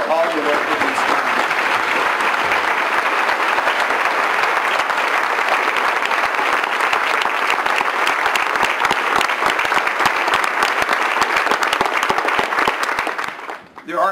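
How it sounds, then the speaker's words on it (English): A standing conference crowd applauds loudly and continuously for a departing colleague, many hands clapping in a thick, sustained roar that carries for over thirteen seconds before tapering off abruptly at the end. "let's give John a round of applause for all the work that he's done"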